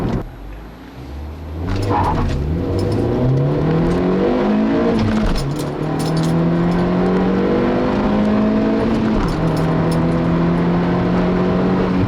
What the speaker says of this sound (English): you do have to rev the crap out of this little 4-cylinder to get it to go anywhere